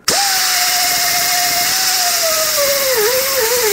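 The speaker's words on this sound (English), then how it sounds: "I'm going to use a little sanding disc" A small sanding disc on a power tool whines steadily while cleaning the clip areas of a rear brake caliper bracket on a 1997-2003 Ford F-150, close and loud, the pitch sagging slightly as it bites into the metal near the end.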